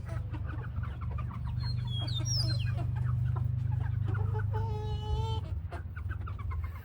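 Chickens cluck and squawk in a steady, busy stream while feeding on overgrown squash, with sharp calls rising above a constant low rumble throughout.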